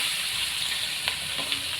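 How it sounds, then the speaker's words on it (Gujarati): Ginger pieces and chopped onion frying in hot oil for misal pav, a steady close sizzle with faint stirring clicks and no talk. "હવે ડુંગળી નાખી દેવાની છે આપણે."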